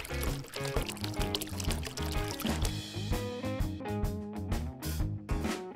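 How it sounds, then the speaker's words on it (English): Hot water is poured over cut-up colorful crepe paper, a splashing pour heard beneath loud, rhythmic background music. "Cover it with hot water."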